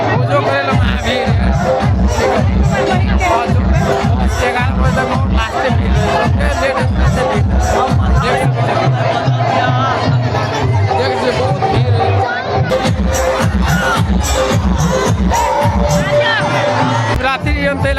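A dense crowd of devotees packed into Shambhunath temple on Maha Shivratri, loud continuous chatter and shouting with occasional cheers, one voice speaking over the hubbub.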